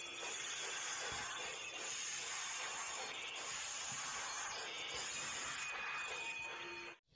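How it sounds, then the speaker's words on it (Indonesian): A train passes with a broad, steady hiss like steam that stays loud and even for about seven seconds before cutting off abruptly. "Wadidaw, lihat ini ada kereta api."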